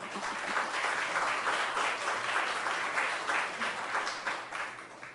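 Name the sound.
audience applause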